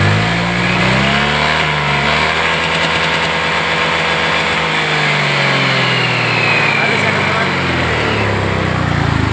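A Honda Vario 125 scooter engine idles close by with a steady buzzing drone, pitch rising and falling slightly as it revs gently; the CVT cover is fitted and the CVT area sounds rough.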